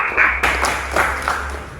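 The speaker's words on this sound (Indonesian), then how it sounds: "Aplaus untuk Alvista dan Yulisa." Classroom applause for students: a short burst of many hands clapping close by, dense and fairly loud, fading slightly toward the end.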